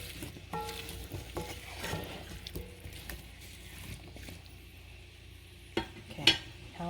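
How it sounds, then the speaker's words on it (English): A spoon stirs chopped tomatoes into a pot of potato stew, giving scraping, clattering knocks against the pot over a soft background simmer, with a sharper clink near the end. "I'm also throwing those tomatoes in. Again, give it a quick stir."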